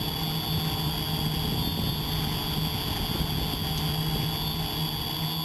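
A DJI Flamewheel quadcopter with Naza controller lifts off from an old picnic table and flies out across an open field, its steady buzzing rotor whine continuous and fairly close throughout, with no talking.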